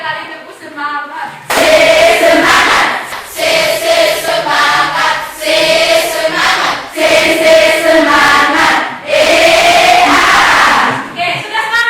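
A school class shouts the rhythmic tepuk semangat spirit chant together, with loud voices and sharp clapping in several repeated bursts separated by short pauses.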